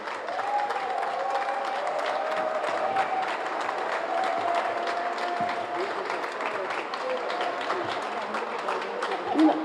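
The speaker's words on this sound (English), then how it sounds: "Let's give them a round of applause." A ceremony audience applauds former city administration staff at a portrait unveiling in New Haven, a sustained, even wash of clapping from a sizable crowd, with a faint tone running underneath.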